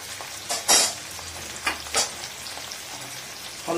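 Vegetables for khichdi, including long beans and flat beans, frying in a pan toward light golden, with a soft continuous sizzle and several sharp scraping stirs spaced irregularly.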